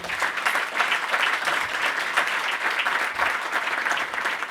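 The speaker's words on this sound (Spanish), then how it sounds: "los premiamos con un fuerte aplauso" Loud, sustained applause from the audience at a breakfast consultation event, dense even clapping throughout.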